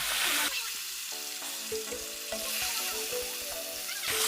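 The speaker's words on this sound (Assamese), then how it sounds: "মাছটো ধুনীয়াকৈ ভাজি দিলে" Steady close sizzle of koi fish frying in hot oil, with scattered pops and the clink of a utensil stirring in the pan.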